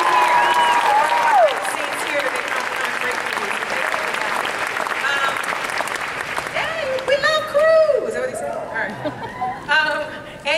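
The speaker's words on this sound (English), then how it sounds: "They literally deserve a bigger round of applause on what y'all do." A large Comic Con Hall H crowd claps and cheers loudly for a panel, with sharp whoops and shrill whistles rising over the applause and fading into scattered claps and chatter.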